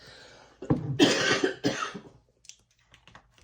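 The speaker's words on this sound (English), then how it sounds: "Excuse me, I had to cough." A few harsh, throaty coughs close to the microphone in quick succession, followed by faint small noises.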